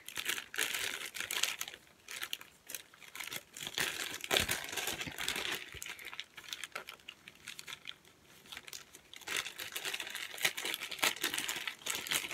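Plastic packaging around a soccer jersey crinkles and crackles continuously at close range, with rustling handling sounds and small taps, and no talking.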